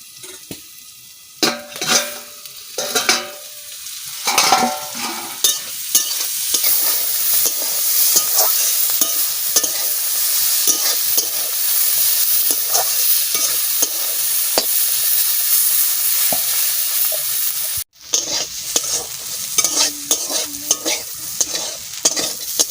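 Loud, continuous frying sizzle of beetroot and cabbage with repeated stirring and scraping of a spatula in a pan, briefly pausing before the clatter resumes.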